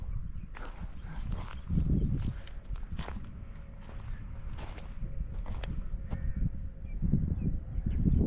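Donkey hooves clip-clopping on a road in a roadside spot where donkeys, camels and goats wander, a series of close, distinct knocks in irregular walking rhythm over steady low rumble and background noise.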